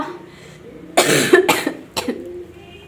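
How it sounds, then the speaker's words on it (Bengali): A woman with a sore throat coughs several times in harsh bursts close to the mic, then clears her throat once more, with faint background hum between. "প্রচণ্ড কাশি হচ্ছে"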